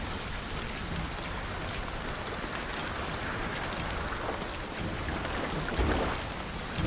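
Steady rain falls in Hunt: Showdown, a dense, even hiss of drops on surfaces with scattered sharper pattering hits, constant and close with no voices.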